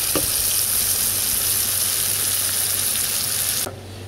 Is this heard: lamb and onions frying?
yes